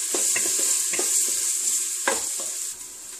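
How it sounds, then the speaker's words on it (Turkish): Peppers sauté in a pan with tomato paste, salt and spices, sizzling and frying steadily while a utensil stirs with several soft scraping strokes, close and alone. "Bir çay kaşığı pul biber, bir çay kaşığı tuz, bir yemek kaşığı salçayı ekliyorum. Kavurmaya devam ediyorum."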